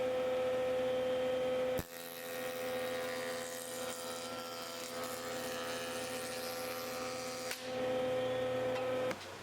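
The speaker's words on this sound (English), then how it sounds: "And again, I used the jointer." A wood jointer running while boards for cutting boards are flattened, a loud steady mechanical whine with a sharp tonal hum, shifting in pitch as stock feeds through and cutting off abruptly between passes.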